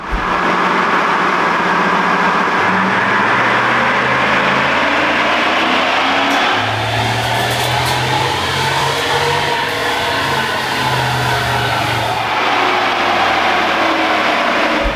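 Loud and close, a 2014 Gen 1 Ford Raptor with a 93-octane tune on stock BF Goodrich all-terrain tires winds its engine up on a dyno, a sustained, rising drone with rapid shifts through the gears.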